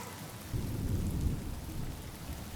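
Rain and rolling thunder in the video game Honkai Star Rail, a low rumble swelling after a quiet start over steady rainfall hiss, moderately loud and alone.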